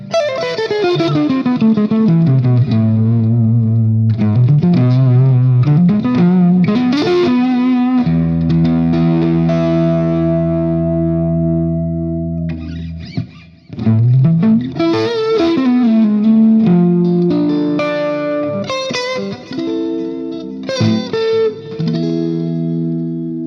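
Electric guitar played through a Hughes & Kettner TubeMeister Deluxe 20 tube amp with light delay and reverb, sustained distorted notes and chords ringing out with echo tails, close and loud with no talking.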